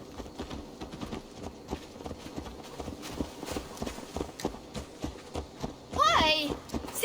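Horse hooves clip-clop in steady rhythm in Assassin's Creed Valhalla, mid-level under game music and ambience, with a brief voice near the end.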